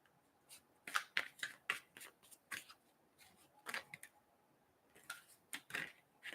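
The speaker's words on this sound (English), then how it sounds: "I'm just shuffling to clear really quick" Tarot cards being shuffled up close, quiet bursts of riffling and snapping card edges in irregular clusters separated by brief pauses, with no talking.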